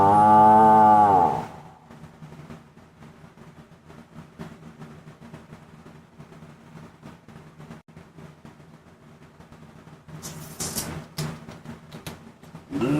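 A cow moos once, loud and close, at the start, followed by quieter low background rumble and scattered noise with a brief burst near the end.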